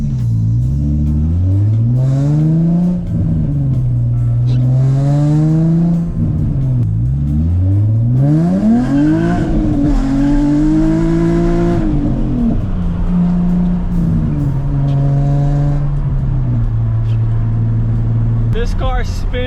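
A Nissan 350Z with an open differential revs hard and spins its tires. The loud, close engine note climbs and falls repeatedly through the rev range, and a voice talks over it throughout.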